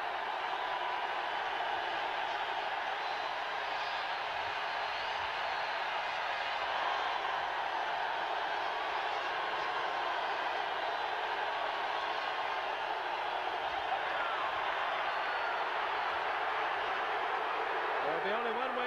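A stadium crowd roars steadily through a 1979 Monday Night Football game between the Houston Oilers and Miami Dolphins, a dense sustained wash of cheering under a commentator talking.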